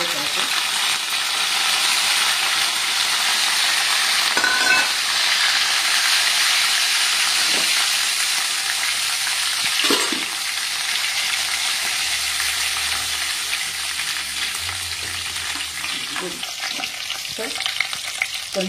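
Red chillies, mustard seeds, cumin and curry leaves fry in hot oil with a steady, loud sizzling hiss throughout, broken by a few brief clinks and stirring scrapes.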